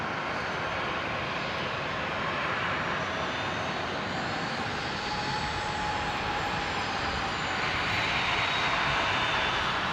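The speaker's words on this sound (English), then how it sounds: "the second Herc that's coming in" A Lockheed C-130J Hercules military transport arriving at Brisbane International Airport, its turboprop engines a loud, steady roar that slowly builds as the aircraft approaches.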